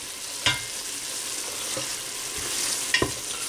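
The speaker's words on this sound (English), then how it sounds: "So I'm just going to let this simmer just for another minute or two" A pan sauce simmers with a soft, steady sizzle and hiss, broken by two sharp utensil scrapes or taps against the pan, close and fairly quiet with no voices.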